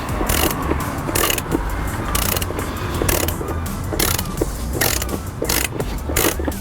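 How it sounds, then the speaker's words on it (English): A torque wrench ratchets and clicks repeatedly while tightening a motorcycle chain adjuster. The sharp metallic clicks come in quick bursts, loud and close, with no voices. "you know it's at the correct torque setting when the torque wrench makes a click"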